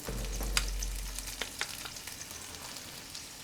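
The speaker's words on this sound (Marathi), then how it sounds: "आणि हे छान असं आता परतून घेऊया।" Grated jaggery and fresh grated coconut are sautéed in a pan, a gentle sizzle broken by several sharp spatula scrapes and taps near the start, fading to a quieter crackle.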